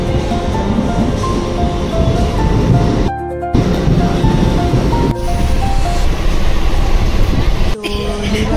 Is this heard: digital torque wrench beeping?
no